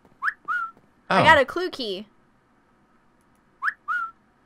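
Video game whistle effects: two short rising whistle notes, a burst of speech, then the same two-note whistle again, clear and close against silence.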